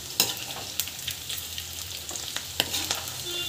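Onion pakoda made with drumstick leaves fries in oil, giving a soft, even sizzle with frequent crisp pops and spatters nearby, and no talking.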